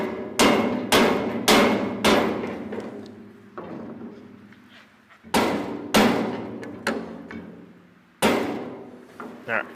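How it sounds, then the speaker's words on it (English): A rubber mallet knocks a spacer into place on a 10-foot squeeze cattle work chute with side exit, delivering loud resonant metallic thuds in quick bursts of three or four, each ringing out before the next group. "let me go grab a rubber mallet"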